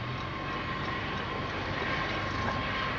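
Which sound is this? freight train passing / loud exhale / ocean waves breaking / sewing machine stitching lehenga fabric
freight train passing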